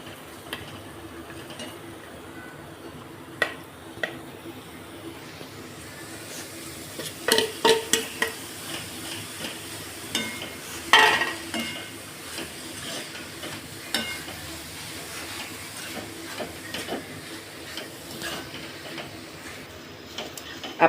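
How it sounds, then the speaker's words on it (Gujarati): Spice mixture being stirred with homemade paneer in a pan: soft scraping and occasional utensil clicks against the pan, with a faint sizzle underneath, fairly quiet and irregular, no talking. "આને મિક્સ કરી દઈએ બરાબર આપણે."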